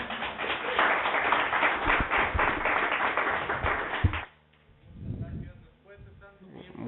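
An audience claps in a dense, sustained burst of applause for about four seconds, then it cuts off abruptly and a speaking voice follows.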